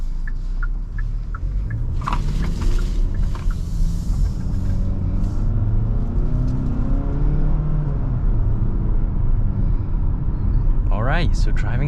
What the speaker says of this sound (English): So driving this 2022 Hyundai Tucson XRT honestly drives like any other Tucson